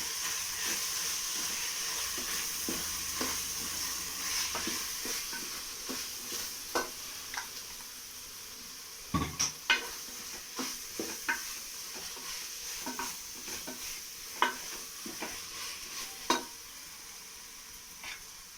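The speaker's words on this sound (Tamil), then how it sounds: "இதுவும் கொஞ்சம் நல்லா ஜாம் மாதிரி வதங்கணும், கொஞ்சம் சுருங்கணும் தக்காளி." Tomatoes sauté in a pan for chicken biryani, giving a steady soft sizzle and hiss with scattered clicks and scrapes of a spoon stirring, fairly faint throughout.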